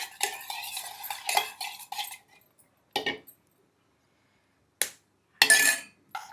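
A spoon clinks and scrapes in a bowl while stirring a spiced egg mixture with chili powder, turmeric and cumin, in short bursts of rattling with quiet gaps between them, close up.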